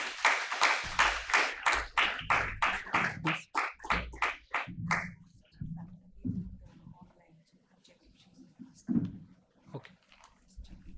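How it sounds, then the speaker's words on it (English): Audience clapping at a formal event marking an EU-India ICT standardisation collaboration: a run of crisp, fairly regular claps for about five seconds that thins out and fades, followed by quieter talk. "A round of applause for them, please."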